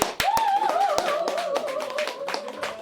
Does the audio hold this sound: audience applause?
yes